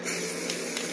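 Steady hiss of an aerosol spray paint can coating a rough weld on a homemade steel ATV hitch for a Yamaha Big Bear 400, continuous and close throughout.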